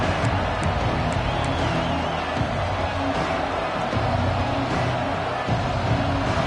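Continuous loud rumble of a stadium crowd at an Ohio State versus Florida college football game, a dense, steady wash of many voices with faint announcer talk underneath.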